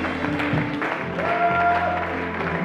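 A church audience in Oron applauding, a continuous wash of clapping at moderate distance with a sustained tone ringing through the middle and voices mixed in.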